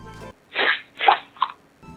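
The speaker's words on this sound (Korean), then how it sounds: "전원을 켜고 끌 때 캔 따는 사운드가 들어갔는데" A Pepsi-branded stainless steel Bluetooth speaker plays a can-opening sound effect when powered on: three quick, breathy fizzing bursts in a row, close and clear with no talk.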